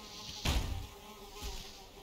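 Mosquitoes in the survival game Valheim, a buzzing drone with two sharp passes close by, the first louder than the second, alone with no talk.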